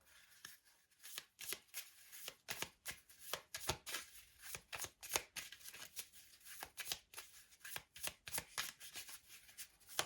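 Tarot de Marseille cards shuffled by hand, a rapid run of crisp papery riffles and slaps repeating steadily over ten seconds, close and fairly quiet with no talking.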